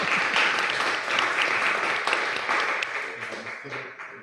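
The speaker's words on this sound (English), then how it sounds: "y'all could give her a round of applause" Audience applause at a school board meeting for the Assumption Parish School System's interim chief financial officer, dense steady clapping that fades slightly toward the end, with faint voices underneath.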